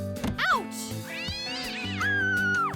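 A cartoon cat meows several times in a row, with rising and falling cries that are close and loud. A second voice seems to join in, and there is faint tonal music underneath.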